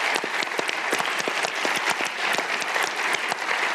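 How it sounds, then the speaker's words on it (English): Sustained audience applause for panellists at a business hustings event, a dense, steady wash of many hands clapping throughout with no talk. "So give us a round of applause for our panellists,"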